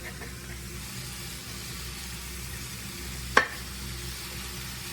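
Food being stirred and mixed in a sizzling pan, with a steady fry hiss throughout and one sharp utensil knock near the end.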